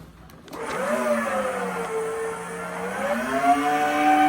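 A shop vacuum with a hose starts up at about half power to suck paper wasps and mud wasps from their nests, spinning up fast into a loud, steady whine that rises slightly in pitch toward the end.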